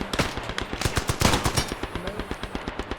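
A machine gun nest fires in a large-scale WW1 first-person shooter game, with rapid, evenly spaced bursts of loud, sharp shots rattling close by for the full few seconds.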